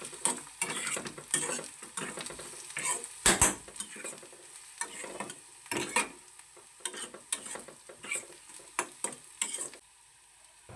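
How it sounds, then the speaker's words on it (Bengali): Chopped garlic being stirred with lightly fried onion in a pan, soft sizzling under repeated scraping and clinking of a spatula against the metal, close and fairly quiet with no talking. "রসুনটাকে আমি পেঁয়াজের সাথে হালকা করে নেড়ে নেবো।"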